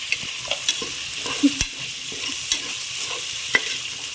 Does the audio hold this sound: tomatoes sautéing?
yes